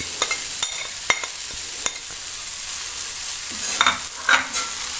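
Grated coconut is stirred into vegetables, including papaya, frying in a pan. A spoon scrapes and clicks in a loose rhythm over a constant close sizzle.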